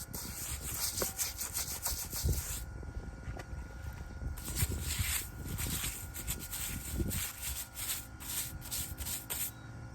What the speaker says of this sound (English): just with the light scrub, most of it is kind of coming off